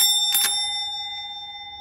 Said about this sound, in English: We got a bell, which is one of the coolest sounding bells that I have.